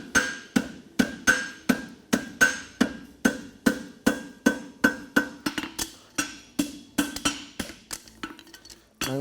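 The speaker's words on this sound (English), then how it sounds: "Now I'm going to bend the branch and make my masslot." A hammer strikes hot steel on an anvil, bending the branch of a Swiss hind horseshoe. Around twenty evenly spaced, ringing metallic blows land close by, the rhythm loosening slightly near the end.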